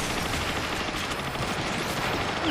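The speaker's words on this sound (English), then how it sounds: "Oh, I'm getting shot from the right now." Continuous rapid gunfire rattles in a Transformers: Fall of Cybertron multiplayer match, a dense, unbroken barrage of shots at steady loudness throughout.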